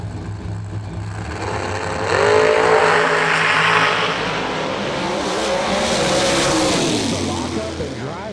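Drag racing cars, including a Viper, launch down the strip at the Yellow Bullet Nationals: a loud rising engine roar swells, then holds and fades, while an announcer talks over the noise.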